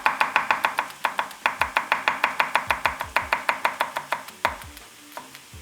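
A knife chops scallion whites on a cutting board in quick, steady, evenly spaced knocks, close and crisp, about five strikes per second, slowing and breaking up near the end.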